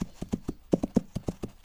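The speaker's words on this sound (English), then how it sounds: "They disappeared in an obscure mass of dust and hoofbeats" Horse hoofbeats clip-clop in a quick, steady galloping rhythm, about a dozen distinct thuds over under two seconds, moderately close and unaccompanied by voices.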